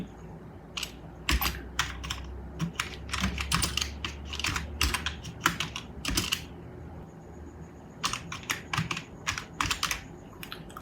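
Rapid keystrokes on a computer keyboard as a title is typed, coming in quick clustered bursts with a brief pause partway through, close and clear.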